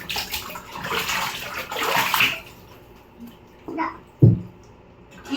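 Water splashes and sloshes as it is poured over a child at bath time, with several bursts of pouring and splashing mixed with a child's and an adult's voices.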